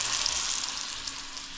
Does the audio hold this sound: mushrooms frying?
yes